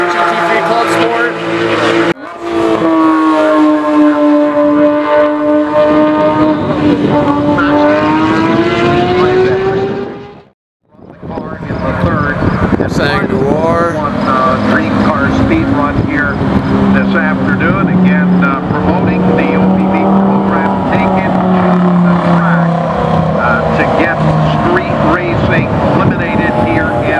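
A GT3 Club Sport car drives on a race track, its engine roaring close and loud, pitch climbing and falling through the gears before a brief near-silent gap, then the roar returns with sustained revving.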